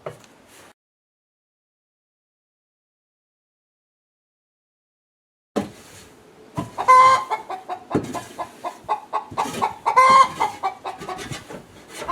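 Backyard chickens cluck and call around their coop as straw is cleared out, a busy run of overlapping close calls after a short quiet stretch.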